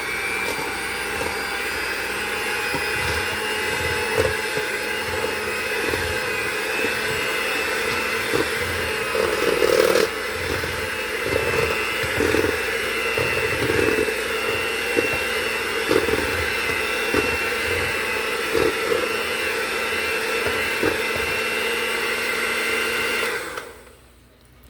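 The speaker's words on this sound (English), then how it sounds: "And then we're going to just mix this butter." An electric mixer whirs steadily while beating very soft butter on its own, a continuous close motor drone with faint rhythmic knocks from the beaters, stopping abruptly at the end.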